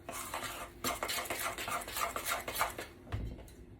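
Buttermilk stirred into biscuit dough in a bowl with a spoon, giving a close, soft, continuous scraping and clinking with brief pauses and no speech.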